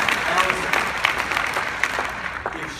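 Applause from a seminar crowd rolls steadily at moderate loudness, then thins slightly toward the end, with a voice faintly under it.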